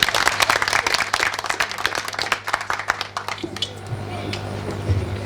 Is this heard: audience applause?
yes